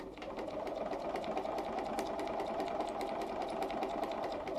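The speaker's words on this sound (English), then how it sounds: "Then we're going to sew on that line." A Bernina 802 sewing machine stitches along a marked line on a curve, a fast, steady mechanical whir with rapid regular needle beats, close and continuous with no talk.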